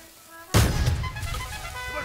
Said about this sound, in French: on doit essayer de lancer des grenades